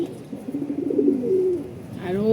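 Pigeons cooing close by, with soft repeated throaty coos rising and falling, ending in a clearer drawn-out call.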